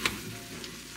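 Tomato sauce hits a hot pan of Indian butter chicken with a short hissing burst, then settles into a steady, close sizzle for about a second.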